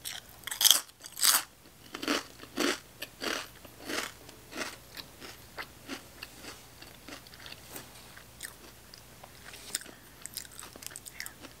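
Crunchy corn puff chips are bitten and chewed up close, with two sharp crunching bites followed by a steady run of softer chewing crunches.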